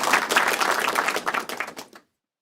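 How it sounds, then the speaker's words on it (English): A small group gives the team a round of applause, with crisp, close, scattered claps that thin out and stop abruptly after about two seconds, leaving silence. "Round of applause for our team"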